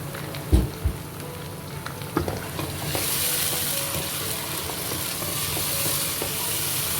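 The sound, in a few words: peeled tomato added to a sizzling pan and stirred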